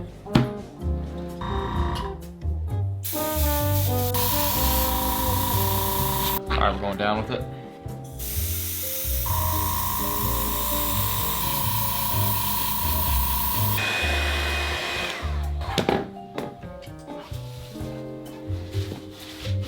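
Several long bursts of loud hissing spray with short pauses between them as a second coat is sprayed on, while someone speaks briefly nearby.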